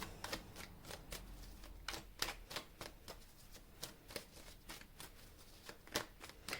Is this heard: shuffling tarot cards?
yes